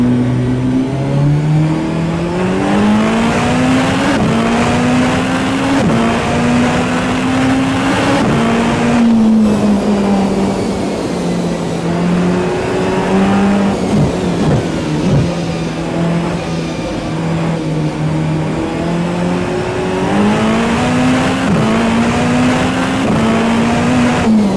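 A race car engine revs at Daytona in the Rennsport VR racing game, a loud, continuous whine that climbs and falls through gear changes for the whole stretch, with no voices.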